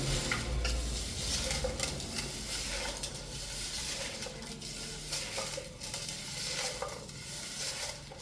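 Raw prawns are rubbed by hand with salt and spices for a Kerala-style prawn curry, making a continuous close-up wet squelching and rustling with scattered small clicks, and nobody speaks.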